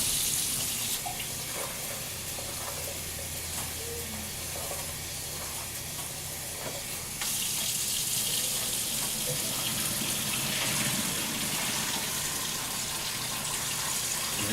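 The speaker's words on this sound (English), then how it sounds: "I'm gonna take this over to the sink and I'm gonna run some cold water in it" Cold water running from a kitchen tap into a cooking pot at the sink, a steady rushing hiss that grows a little louder partway through as the pot fills, close and continuous with no talking.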